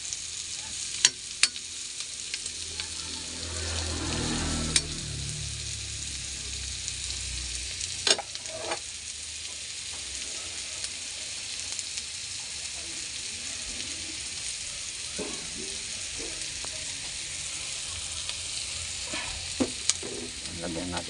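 Tinapa smoked fish with chili frying in a pan, a continuous strong sizzle with an early surge of crackling and occasional sharp spatters and clinks throughout.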